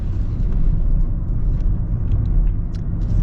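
The engine of an armored 2023 Bentley Bentayga runs with a loud, continuous deep rumble, steady throughout with faint higher clicks above it.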